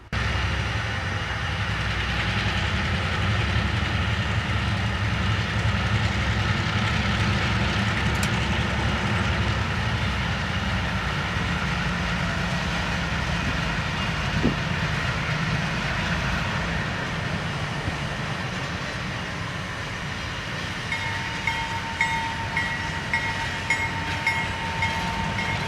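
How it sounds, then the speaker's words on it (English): A pair of Cliffs switcher locomotives move empty gondola cars at CP 502 on Chicagoland's East Side, a steady rumble of engines and rolling freight cars lasting throughout, with no voices. "we see a pair of Cliff's butthead switchers moving empty gons"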